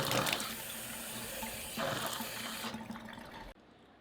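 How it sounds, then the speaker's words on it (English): Water rushes loudly from a sink tap after a reverse osmosis installation, with sputtering from air in the lines, then drops to a quieter, steady flow near the end, with no voices. "Let's go see what the sink looks like. Oh, yeah, boys. We got water."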